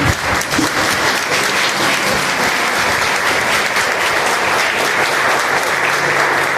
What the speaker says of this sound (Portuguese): eu quero deixar aqui uma salva de palmas para todos nós